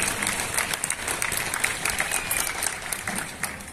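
An audience claps steadily at a film festival award ceremony as a minister is invited onto the stage, a dense, even burst of applause from a crowd indoors, with no voices standing out.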